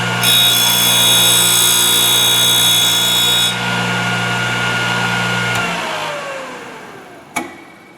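A Thorvie AV-40 sharpening machine grinds a wing of a router or shaper cutter, a loud steady motor whine with a bright grinding tone that cuts off abruptly, then spins down and ends with a single sharp click.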